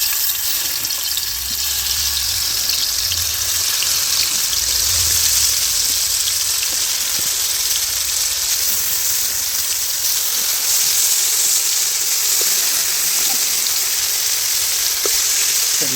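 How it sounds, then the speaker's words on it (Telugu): Marinated korameenu fish pieces fry in hot oil for a village-style curry, making a loud, steady close sizzle with fine crackle that holds evenly throughout. "తగినంత ఆయిల్ వేసి ఆయిల్ వేడైన తర్వాత అన్నీ కలుపుకున్న చేప ముక్కల్ని ఆయిల్లో"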